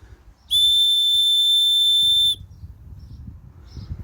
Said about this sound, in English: Nice easy whistle.